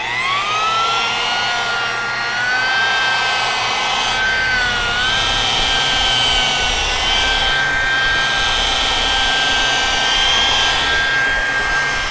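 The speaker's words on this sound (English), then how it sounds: "I'm going to start jeweling it down to remove the swirl marks that I caused to remove the deeper scratches" A Makita rotary polisher works car paint with Extreme Cut compound, its motor whining steadily and loudly at high pitch, the tone dipping and rising slightly as the pad moves across the panel.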